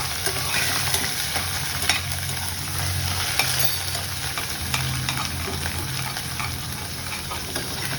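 Ginger-chili paste sautéing in hot oil sizzles steadily up close, with a spoon scraping and stirring through the pan in repeated strokes.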